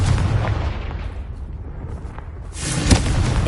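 A Confringo blast spell in Hogwarts Legacy erupts loudly as a booming roar that swells again with a fiery burst near the end.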